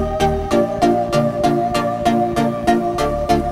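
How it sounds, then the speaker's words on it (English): A bassline from a track plays as a steady electronic pulse of evenly repeating notes, close and fairly loud, with punchy rhythmic hits roughly twice a second and no voices. "Bassline."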